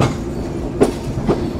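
Chitra Express rolling out of Bheramara station, heard from aboard as a steady close rumble with two distinct clacks of wheels crossing rail joints.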